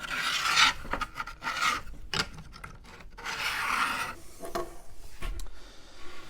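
A pencil scratches across a wood board in several short rasping strokes, close and fairly faint, with brief pauses between lines.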